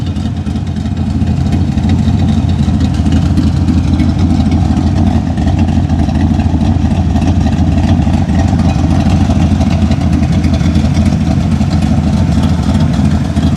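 A 1965 Shelby Cobra 427 replica V8 idles on a cold day, a loud, steady, deep rumble that stays even and close for the whole stretch, with no one talking.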